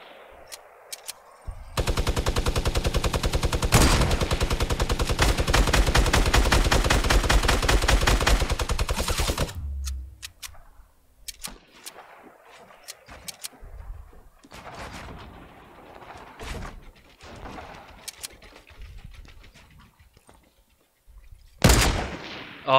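Gunfire in the video game Fortnite: a long, loud, continuous automatic burst of about seven seconds, followed by scattered quieter shots and clatter, then one more sharp burst near the end.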